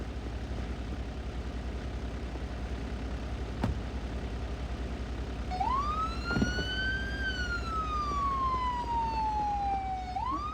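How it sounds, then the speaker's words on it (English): Emergency vehicle siren wailing in a CPR training scenario, rising and sweeping down in a long tone over steady background rumble, with a sharp click shortly before it starts. "you're gonna hear the sirens"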